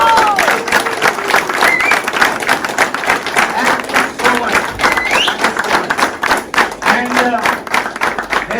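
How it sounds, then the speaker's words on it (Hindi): A seminar audience gives loud, sustained applause throughout. The dense, steady clapping has scattered hand claps standing out and occasional voices underneath. "जोरदार तालियां हो जाए"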